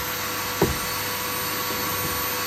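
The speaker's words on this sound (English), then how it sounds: "I'm vacuuming up all the foam that the previous owners spent" A vacuum cleaner sucks up fire-extinguisher foam inside a Nissan Silvia being revived, a steady broadband whir running throughout with a brief thump near the start and faint knocks later.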